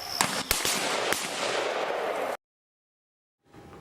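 A rapid burst of police gunfire in recorded footage, several sharp shots cracking over a loud, noisy background before it cuts to silence and then faint ambient sound.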